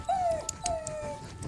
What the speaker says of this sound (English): The dog whimpered under the table.